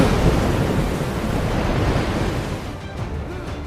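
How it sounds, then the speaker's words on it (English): Ocean surf rolls in a continuous, loud wash of waves, close and unbroken, easing slightly near the end. "woke to the sound of waves"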